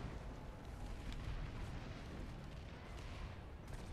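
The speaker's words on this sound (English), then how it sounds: "I'm about to blow this thing up." A sustained, loud explosive rumble in the video game Planetside 2, a steady low boom filling about four seconds without speech.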